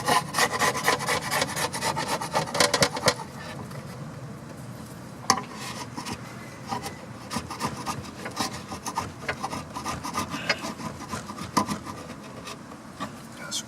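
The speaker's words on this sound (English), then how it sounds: "grab a scraper tool here." A scraper rasps steadily against old rubber weather strip on a 1982-1992 Firebird Trans Am T-top, giving close, continuous scratchy strokes.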